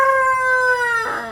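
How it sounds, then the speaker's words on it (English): Single rooster crow from a backyard flock, a long, strongly tonal drawn-out call that bends and breaks roughly at the end, fairly close and clear with no talk over it. "See, even the rooster's complaining."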